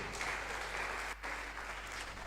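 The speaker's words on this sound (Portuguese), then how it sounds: "Oh, palmas se você entendeu." A church congregation applauds together, steady clapping filling the room with a brief dip partway through, no talking heard over it.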